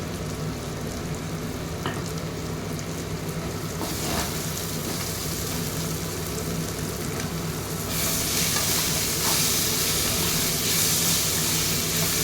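Onions sizzle and crackle in hot oil, a continuous frying hiss that grows louder and brighter partway through, with occasional stirring clinks.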